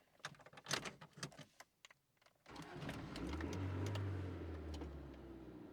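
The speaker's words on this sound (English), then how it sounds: "Car started." A car engine cranks and catches after some clicks and rattles, then settles into a steady low idle close by.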